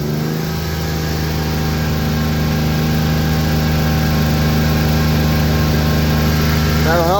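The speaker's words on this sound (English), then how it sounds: "And then you just rev up the car real quick." A car engine runs steadily with a sustained drone and hum, held at raised revs to charge a flat battery after a jump start, loud and constant, with a brief pitch wobble near the end.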